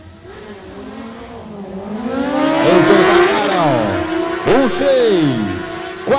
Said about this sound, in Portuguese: E agora vem para a pista categoria Superbike